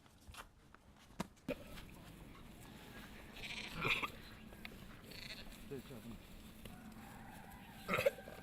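Goats and sheep bleat at feeding time on a farm, with a couple of distinct bleats rising over shuffling and footsteps while a person talks through most of the stretch.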